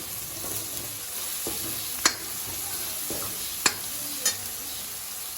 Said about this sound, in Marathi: चला तर हा कढीपत्ता यामध्ये टाकून घेऊया आपण